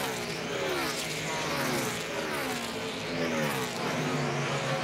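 NASCAR stock cars roaring around the Dover track in the 2010 AAA 400, a dense, continuous engine drone with rising and falling pitch as cars pass in traffic, loud and unbroken throughout.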